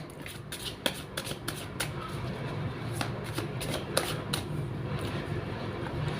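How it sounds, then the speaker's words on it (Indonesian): A deck of tarot cards is shuffled close by, with soft, quick riffling bursts repeating irregularly over a faint, steady background hum. "Langsung saja saya shuffle kartunya"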